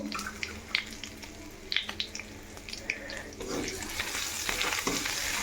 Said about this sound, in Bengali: জিরে ফোড়নটা দিয়ে তারপরে আমি আরেকটু যে আদা বাটাটা রয়েছে ওই আদা বাটা একটু দিয়ে দেবো